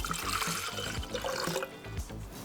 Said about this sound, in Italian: Poi in una brocchetta mettiamo la dose di acqua